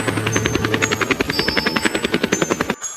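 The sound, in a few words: helicopter flying, cartoon story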